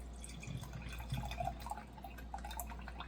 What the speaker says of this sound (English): I do want to just pour a bit in a cup